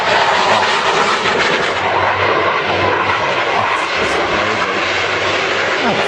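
Aircraft engines of several planes flying in tight formation, a steady broadband roar that fills the clip loud and close, with no talk over it.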